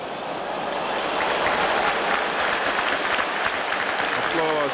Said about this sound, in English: Applause for